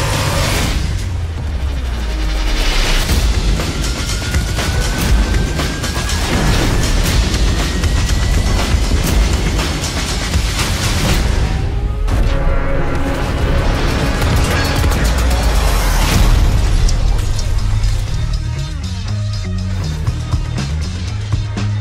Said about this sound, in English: Smash through buildings. Blast bridges into rubble.